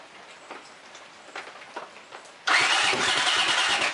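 Honda CX500 motorcycle engine cranking with choke on, suspected of lost compression and sticky valves: faint ticking and clicks, then the starter kicks in with a loud continuous grinding churn that doesn't catch.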